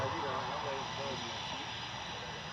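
Blue Angels jet aircraft taking off in formation at an Augusta airshow, a steady loud roar of jet engines with broadband hiss, continuous throughout and heard from a distance with faint announcer talk underneath.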